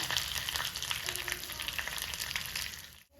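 A Kerala-style tempering of curry leaves and chili powder sizzles steadily in hot oil, a dense, close frying hiss that runs unbroken before cutting off sharply near the end.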